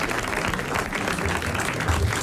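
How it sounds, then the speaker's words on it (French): Steady clapping from a radio quiz show studio audience for a winning contestant, moderately loud and even throughout a short stretch with no speech over it. "Nous l'applaudissons."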